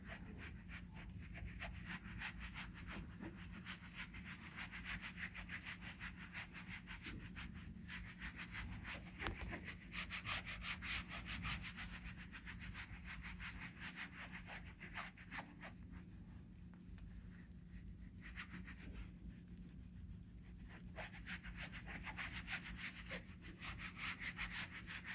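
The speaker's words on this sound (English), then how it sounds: "You can hand burnish with the Baron." A baren rubbed by hand across newsprint to burnish a print during an image transfer, giving a steady, continuous scratchy rubbing that runs the whole time at moderate level, no voices.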